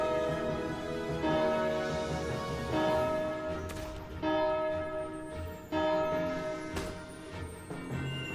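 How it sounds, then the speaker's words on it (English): A bell rings out in the war game Valkyria Chronicles 4, its sustained resonant tone struck several times and layered over a droning ambient backdrop. "Ring the bell, Kai."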